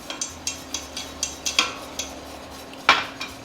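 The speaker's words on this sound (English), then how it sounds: "So you want to whisk it out nicely" A whisk working roux with milk and heavy cream in a pot for a ground provision pie, giving a quick series of metallic clinks and scrapes against the pot, evenly spaced and close, with a louder clank near the end.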